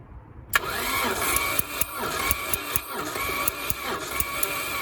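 A Porsche 924 Turbo engine cranks over on the starter during a compression test, a steady rhythmic churning with regular pulses, loud and close, with no talk.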